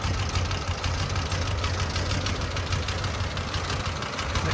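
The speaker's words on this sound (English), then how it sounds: "Okay, here we are under the bonnet of this Series 1. Just chugging away nicely at idle." A 1956 Land Rover Series 1 88-inch, warm after a drive, idling under the open bonnet: a steady, close, evenly chugging engine with continuous rattly mechanical noise and no speech.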